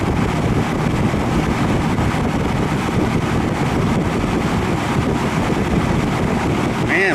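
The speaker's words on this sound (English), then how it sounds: "Man, for a 14-inch fan, this thing is kicking out the air." A KMart K14X 14-inch box fan running on its high setting gives off a loud, steady broadband whoosh of rushing air with constant wind buffeting close to the microphone.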